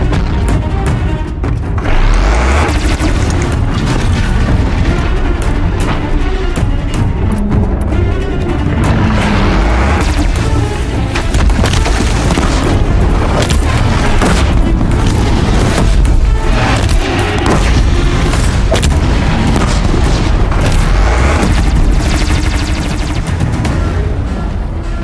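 A disc launcher fires repeatedly in Horizon Zero Dawn amid loud, dense combat, heavy booming impacts and bursts layered over a constant rumbling din for the full length, with no pauses.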